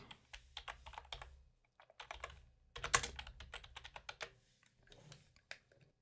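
Someone types a project name on a computer keyboard, quick uneven clusters of soft, close key clicks with short pauses and one sharper strike partway through.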